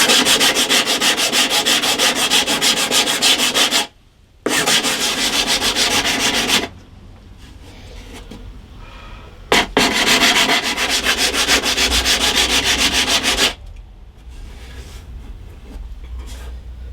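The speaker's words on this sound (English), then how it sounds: "I want to be careful about sanding this bit where the neck goes on" A wooden guitar body's binding is sanded by hand in long, close, steady bursts of abrasive rasping, broken by a short pause and a quieter stretch before the scrubbing starts again and fades toward the end.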